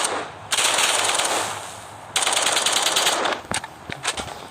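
Vandal rifle gunfire in the Hyper Front shooting game, heard as two sustained loud automatic bursts followed by a few scattered single shots, close and dense with no talk.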